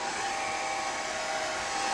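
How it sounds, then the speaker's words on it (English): A hair dryer on its low setting blows over alcohol ink on freezer paper, a steady close whirring hiss with no pauses. "I use this dryer on low so I can blend it a little bit"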